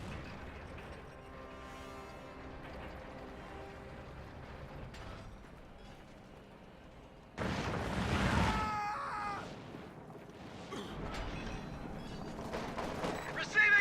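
Gunfire in a World War II real-time strategy game with MG-42 machine guns, grenadiers and a Sherman tank: mechanical clatter and rattling bursts grow louder in the second half, mixed with other battle effects.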